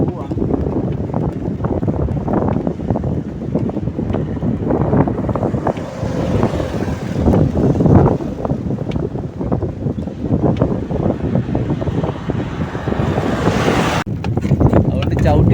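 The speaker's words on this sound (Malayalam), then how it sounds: "നല്ല കാറ്റുണ്ട് കേട്ടോ, അതുകൊണ്ട് നമ്മുടെ സൈക്കിൾ കൊണ്ടുപോകാൻ ഭയങ്കര ബുദ്ധിമുട്ടാണ്" Strong seaside wind buffets a bicycle rider near the India–Sri Lanka border at Arichalmunai, a loud continuous rush and roar of wind noise across the whole stretch.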